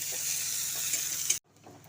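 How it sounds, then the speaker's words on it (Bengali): Chopped onion sizzles in hot oil with tempering spices in a pan while cooking a Bengali flat bean dish, a bright steady hiss that cuts off abruptly, then returns faintly. "পেঁয়াজটা দিয়ে ফোড়নের সঙ্গে আরও কিছুক্ষণ ভেজে নিচ্ছি"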